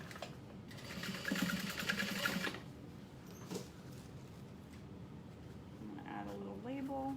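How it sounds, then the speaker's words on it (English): Domestic sewing machine stitching through the folded-under opening of a handbag, with a short whirring run near the start and another brief burst at the end, fairly quiet, with a voice talking softly. "I'm gonna fold it under and sew through it."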